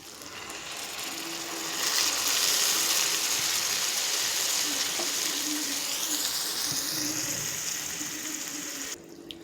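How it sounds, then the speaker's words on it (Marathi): Water is poured into a pan of stuffed eggplant cooking on the stove, a steady splashing rush that runs for about seven seconds before stopping abruptly. "इकडे आपण पाणी घालतोय."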